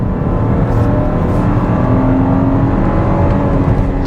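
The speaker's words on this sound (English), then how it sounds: "But mash it from stop. Engine feels good, it doesn't sound strained." Engine of a 2021 VW Atlas SUV accelerating hard from a stop, a loud, steady interior drone with rising whir and road noise, no voices over it.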